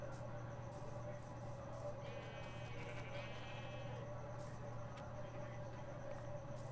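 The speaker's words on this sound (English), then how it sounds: "Huh, sheep." A sheep in the Minecraft video game gives a single faint bleat over a steady background hum, with no talk during it.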